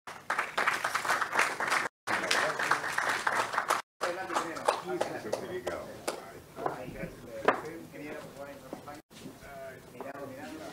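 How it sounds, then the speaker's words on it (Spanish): Audience applause at a mining forum ceremony in Lima, a sustained crowd of clapping with brief cutouts and a voice speaking over it. "Fuerte aplauso,"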